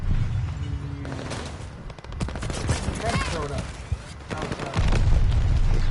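Grenade and mortar explosions in the shooter game Call of Duty: Vanguard, dense bursts of booms and rapid gunfire crackling over each other, with players talking over the battle.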